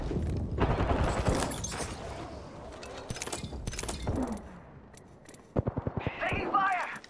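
Bursts of gunfire rattle through a Chronicles of Wraith battle, rapid volleys and single shots in several clusters, with a voice shouting over the action.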